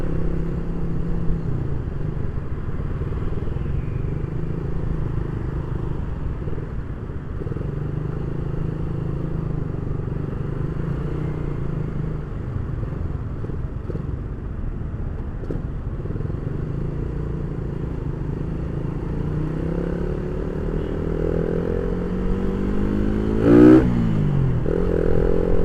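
A modified Indonesian motorcycle with a worn front tyre idles steadily and close by, its engine running continuously with a brief sharper rev near the end.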